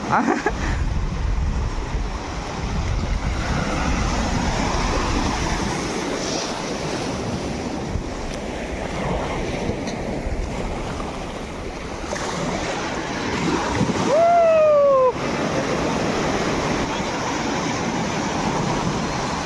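Steady roar of surf breaking on a beach at Puducherry, waves washing in and out, a continuous broad rush of water, loud and close, with no talk.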